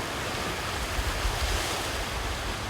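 Ocean waves wash onto a West Coast shore in Africa in a steady, roaring surf. A low rumble swells and fades beneath the broad hiss, with wind noise mixed in and no voices.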